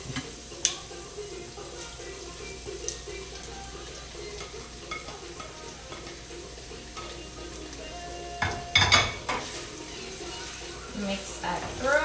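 Sliced vegetables for a Philly cheesesteak are stirred in a pan over a low flame, soft sizzling underneath with scraping and clinks of the utensil, and a louder clatter near the end.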